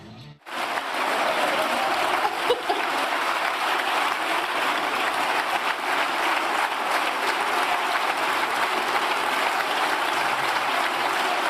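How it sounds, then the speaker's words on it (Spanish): Applause fills a parliament chamber in Spain, beginning abruptly after a brief pause and holding as a loud, dense, continuous clatter of many hands for over ten seconds. "Desde ese aplauso"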